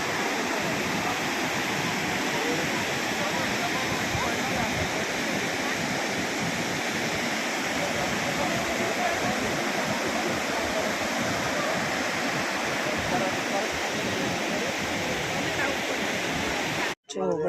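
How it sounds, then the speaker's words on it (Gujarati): Water of the Gira waterfall pours in a steady, loud, broadband roar that continues unbroken, with a brief dropout just before the end. "આ ગીરા ધોધનું પાણી"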